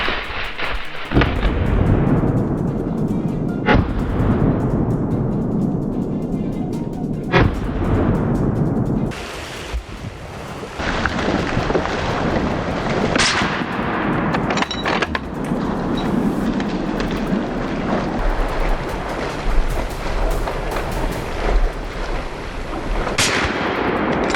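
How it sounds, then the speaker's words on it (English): Rifle shots during a wild boar hunt: several loud, sharp cracks spaced a few seconds apart over a dense, rumbling outdoor background, each trailing into a long echo. "Without a second to think, I raised my rifle and pulled the trigger. The first shot rang out."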